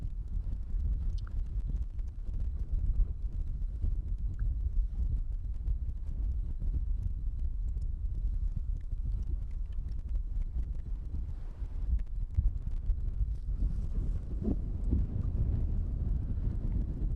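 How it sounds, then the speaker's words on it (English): Strong, gusty wind buffets the microphone at Amsterdam Schiphol Airport during crosswind arrivals, a continuous loud low rumble for the whole stretch with no talking. "the wind is still blowing very much, maybe even a bit more than last time I was standing here"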